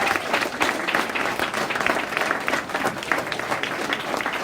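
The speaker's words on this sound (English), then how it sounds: "Give a big round of applause for all these brothers." A large audience applauds steadily for a group of speakers at an event, a dense, continuous wash of many hands clapping close by with no talk over it.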